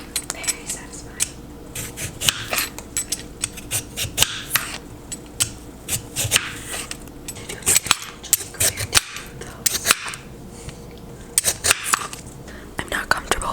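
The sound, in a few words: ASMR tapping noises while cooking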